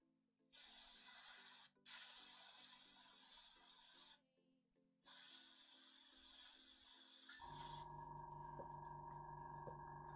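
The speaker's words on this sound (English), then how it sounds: "Using an airbrush, trying to pinpoint a little spot on the model." An airbrush sprays paint in steady hissing bursts onto a Necron Warhammer 40k miniature. Several sustained blasts are broken by short pauses. A lower mechanical hum, likely the compressor, takes over near the end.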